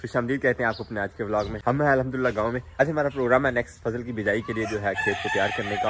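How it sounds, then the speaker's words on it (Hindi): Someone talks steadily while roosters crow in the background on a farm, their calls rising faintly behind his voice, especially toward the end. "मुर्गों के शोर की आपको आवाज़ ज़रूर सुनाई दे रही होगी"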